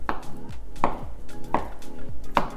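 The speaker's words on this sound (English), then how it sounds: "I'm just gonna cut the tofu up into cubes." A knife chops tofu into cubes on a board, four crisp, evenly spaced cuts, each a loud close thud with a short knock, and no voices.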